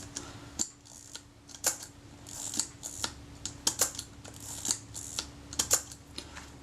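The shutter release mechanism of an Agfa Karat 36 camera is worked repeatedly during servicing, giving a series of sharp, close mechanical clicks and snaps spaced about half a second to a second apart in a quiet room.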